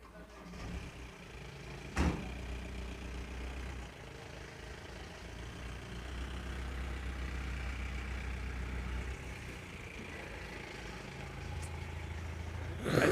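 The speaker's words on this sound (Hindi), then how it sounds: "अभी गाड़ी का आवाज़ है ना, रोकना पड़ा है।" A vehicle engine rumbles outside, a low steady drone that swells in the middle and again at the end, with a couple of sharp knocks and faint voices nearby.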